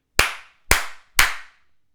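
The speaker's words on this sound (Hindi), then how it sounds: "अगर जोर की मैं ताली बजाता हूं" Three loud, sharp hand claps in a steady rhythm, each ringing briefly into a short decay, close and alone with no talking.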